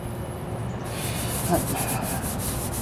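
Close, steady scratchy rubbing of a sanding block over Bondo filler on a 1998 Ford Ranger driver's side wheel arch, with a continuous abrasive hiss that brightens after the first second.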